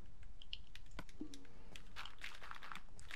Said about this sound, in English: I just hear you clicking away over there.